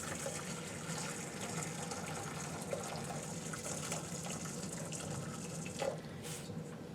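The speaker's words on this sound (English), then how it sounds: "we're going to put hot water in a bowl." Hot water pours steadily into a bowl, a continuous close splashing gush with no talking.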